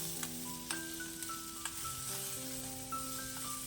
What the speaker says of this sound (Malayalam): ഇനി സവാളയൊന്ന് വഴന്ന് വരണം.